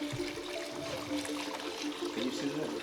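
Water trickles steadily and faintly as it fills the cooling system of a Fiat Uno Turbo under restoration, with a low background hum throughout.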